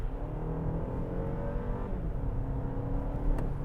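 Steady low engine hum from inside a 2023 BMW X1, smooth and continuous with faint road rumble, no talking.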